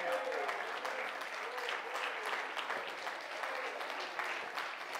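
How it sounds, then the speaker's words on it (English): Church congregation clapping during a Sunday evening service, a dense continuous wash of hands with voices mixed in, sustained and fairly even for several seconds at a moderate distance. "If you believe that, clap your hands and praise Him."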